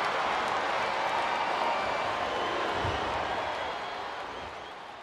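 A large arena crowd in the wrestling video game Smackdown vs Raw, producing a steady wash of cheering and applause that fades slightly toward the end, with commentary voices faintly mixed in.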